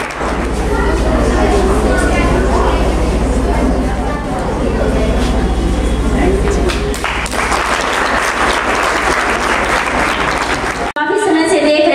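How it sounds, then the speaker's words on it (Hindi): Audience at a talent award ceremony applauds teachers, loud and dense clapping that fills the whole stretch, with a steady low hum beneath and an abrupt cut near the end. "ऐसे महान शिक्षकों के लिए एक बार जोरदार तालियां"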